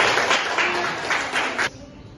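Applause from a primary school class in Indonesia, a burst of clapping hands that swells and pulses for under two seconds, then cuts off into quiet room tone.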